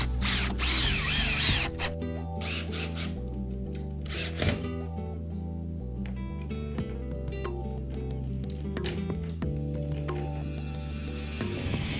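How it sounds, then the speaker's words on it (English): Screws are driven down through a dome fitting during home building, with a cordless drill whirring in several short bursts of varying pitch over about twelve seconds, close and fairly loud amid steady background hum. "Now we'll put the screws down through it."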